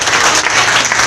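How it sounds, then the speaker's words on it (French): A church congregation applauds during a worship service, dense steady clapping close and loud throughout a brief stretch with no talk over it. "Applaudissez."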